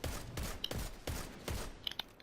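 A scout rifle fires in the video game Destiny 2, about five evenly spaced sharp shots with short decaying tails, each followed by faint small pops of splash-damage impacts.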